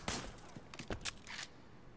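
Bursts of gunfire in the Sleeping Dogs video game, a quick volley of several sharp shots over about two seconds, moderately loud with no talking.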